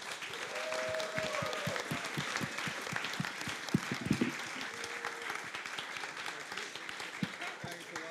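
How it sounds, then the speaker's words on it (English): A conference audience applauds after a panel discussion on smart accounts, moderate steady clapping with a few louder claps and some voices mixed in. "Let's give everybody a round of applause."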